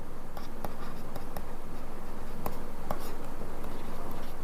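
Pen scratching across paper while a reasoning solution on English alphabet letter series is written out, a steady close scribbling texture with small taps and strokes throughout, no voices.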